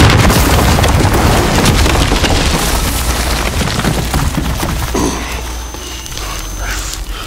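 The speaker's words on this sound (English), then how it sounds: "Missiles incoming!" Missile explosions in the Call of Duty: Modern Warfare game, a loud, continuous rumbling roar of blasts that gradually eases off toward the end.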